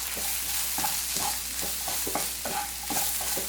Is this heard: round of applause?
no